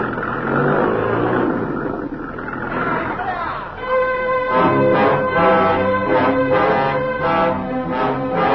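Truck engine in a radio drama of The War of the Worlds, a loud rumbling growl that settles into a rising, revving drone with voices talking over it.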